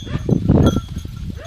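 Sheep being worked by a border collie in a field, a close bleating call with bustling animal movement over about a second and a half.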